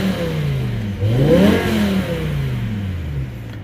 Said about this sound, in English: So I'm gonna rev a little bit, but it's not going to be loud at all.